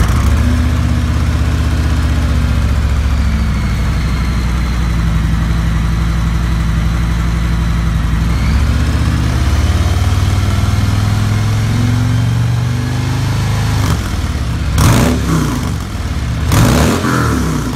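A 2018 Harley-Davidson Road Glide Ultra fitted with Vance & Hines Power Duals exhaust idles with a deep, throbbing rumble, rises through one rev midway, then gives a few sharp throttle blips near the end. It is loud and close, with nobody talking.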